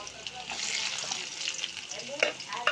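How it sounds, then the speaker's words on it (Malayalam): Onions and small chilies fry in a pan with a steady, fairly quiet sizzle, broken by a few stirring scrapes and crackles near the end. "അത് നമ്മൾ ഉള്ളിയും ചെറുമുളകും ഒക്കെ ഇട്ടിട്ട് മറവിട്ട് സെറ്റാക്കി വയ്ക്കാം."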